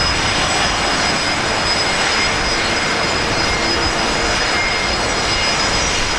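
A jet airliner takes off at Brisbane Airport, a steady, loud broadband engine roar that holds evenly throughout with no talk over it.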